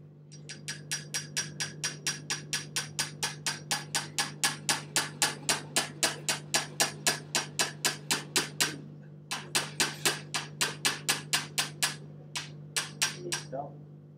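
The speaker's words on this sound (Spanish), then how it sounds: "Dale, martillito." A small hammer strikes repeatedly while a rotor handle is repaired in a workshop, giving a long run of close, sharp, evenly spaced taps over a steady low hum, with a short pause and a few final blows.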